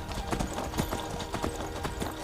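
Horse hooves clip-clopping in the video game Skyrim, a steady, rhythmic series of hoof strikes at walking pace, loud and close over a broad game ambience.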